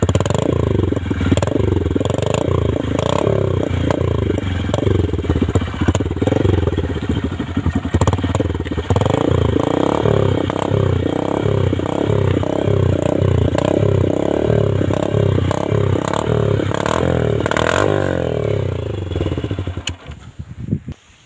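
Honda SP 125 motorcycle fitted with a modified exhaust, revved close by in loud repeated blips, a deep burbling throb rising and falling steadily for about twenty seconds before cutting off.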